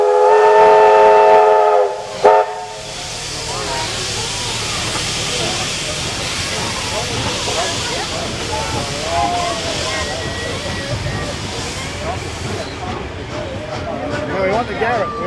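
A Garratt steam locomotive in New South Wales sounds a loud, sustained steam whistle for about two seconds, followed by a long, steady hiss and rumble as the train passes, with people talking nearby.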